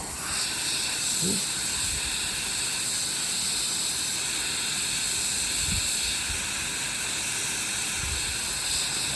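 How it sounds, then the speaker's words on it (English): An airbrush sprays paint onto a Storm Giant miniature, giving a steady, close hiss that runs without a break for the whole stretch, with no voices. "I feel like my airbrush is a little clogged"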